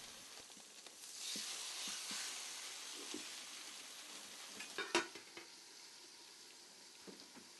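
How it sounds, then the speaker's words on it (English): Fish fries in a NutraEase skillet with its cover slightly ajar, giving a faint, soft sizzle that swells briefly, then sharp clanks of the lid or pan and a few light taps against a quiet background. "place the fish in the skillet with the cover slightly ajar to prevent splattering"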